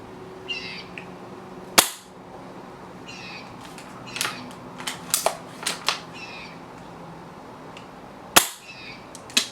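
Echo1 ASR airsoft sniper rifle firing BBs outdoors, two sharp loud snaps spaced several seconds apart, with smaller clicks, rustling and faint birdsong in between.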